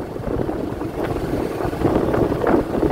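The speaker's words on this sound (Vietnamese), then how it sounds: "Ôi, gió ghê chứ." Heavy gusts roar against the microphone on the Cổ Chiên bridge during rainy, windy weather as a motorbike rides slowly in second or third gear. The buffeting is steady and close, swelling slightly toward the end.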